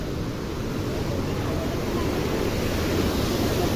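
Kempty Falls waterfall in Mussoorie pours in a steady, dense roar of rushing water, close and loud, with no voices over it.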